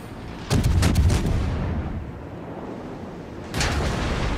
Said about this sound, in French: Voilà, et on me tire dessus